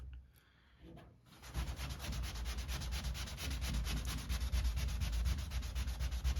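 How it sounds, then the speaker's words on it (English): Steady back-and-forth rasping of 1000-grit wet sandpaper over a panel, continuous and close, starting after a brief quiet moment. "Now, I'll be sanding all of it in this direction, just like this, on the whole panel for this 1000 grit."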